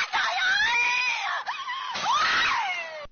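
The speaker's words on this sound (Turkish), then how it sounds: "Onu gören komşular çığlık çığlığa yardım istedi." Neighbours on an apartment balcony scream for help as a small girl climbs the railings, high, wavering shrieks sustained over a few seconds with a brief break in the middle, loud and alone.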